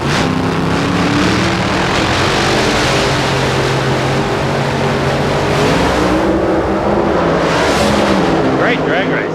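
At the 1995 NHRA Winternationals, a top alcohol drag racing car roars down the strip with a loud, continuous engine howl whose pitch rises and shifts, heard up close with an announcer's voice talking over it.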